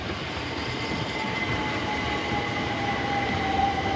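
A Southeastern Class 375 electric unit on a Hastings service pulls into Tonbridge station, its steady broadband rumble and a thin sustained whine holding loud and close throughout with no talk.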